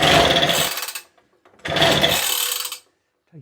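A Suffolk Pony engine is cranked in two loud, rattling bursts, each about a second long, with a quiet gap between them, then falls silent apart from a faint click at the end.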